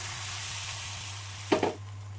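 Palm-fruit batter ladled onto an oiled griddle, a steady quiet frying hiss with a brief louder burst of sizzle and scraping as the batter lands.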